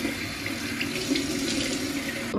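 A bathroom tap runs steadily into a sink as a face is rinsed during a night skincare routine, a close, continuous splashing stream that cuts off abruptly at the end, with no talk.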